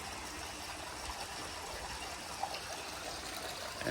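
Water spills steadily from a small waterfall into a garden pond, a soft, continuous trickle and splash heard faintly at a distance.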